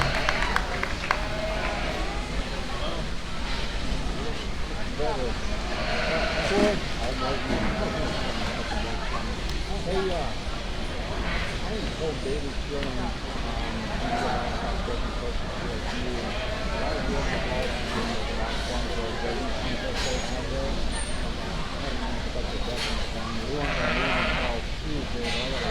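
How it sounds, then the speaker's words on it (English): Sheep bleating at a market lamb show during a livestock exhibition, heard amid a dense, constant crowd and arena din with a loudspeaker voice talking throughout; the animal calls are close to buried in the continuous noise. "Nice set of sheep here, these big guys."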